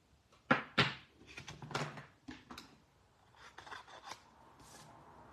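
Hand scissors trimming small paper leaf pieces for a card and treat box, a run of crisp snips and paper rustles, close and fairly quiet, with no talking.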